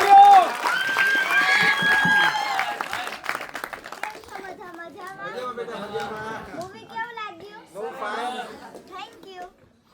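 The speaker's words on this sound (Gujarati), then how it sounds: "જોરદાર તાળીઓ." An audience at a welcome event for film artists in Surendranagar claps, mostly in the opening seconds, under an amplified voice and crowd chatter. Lively children's voices take over afterward.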